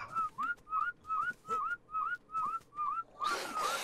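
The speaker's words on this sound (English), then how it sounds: "I was whistling my attack." A whistled attack command in the ARK video game repeats about eight times in an even rhythm, each a short rising two-note whistle, close and clear, the last ones over a burst of hiss.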